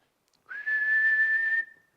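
A person whistles in imitation of a teapot on a stove, a single steady high-pitched tone that rises in briefly and holds for about a second before cutting off, clear and alone.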